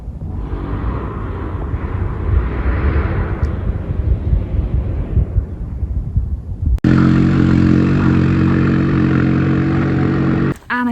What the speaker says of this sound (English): Oh, I can hear motorbikes.